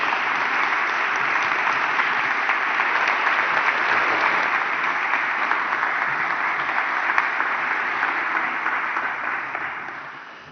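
Sustained applause from a large audience at the closing session of a world bioethics congress, a steady dense wash of clapping that holds level for ten seconds and then starts to fade.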